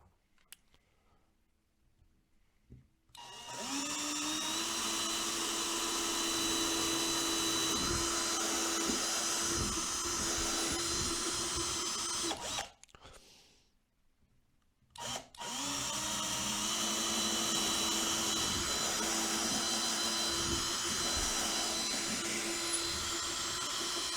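A power drill bores holes through a model railway baseboard for dropper wires, whining loudly and steadily in two long runs with a short silent break between them.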